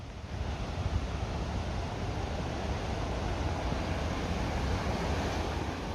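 Loud, steady roaring rush of a powerful waterfall beside a bridge on a mountain trail, a dense continuous wash of water noise close by with no voices.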